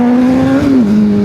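A super sport motorcycle being ridden gives a loud, close, continuous engine drone whose pitch holds steady and then drops slightly near the end, with no speech.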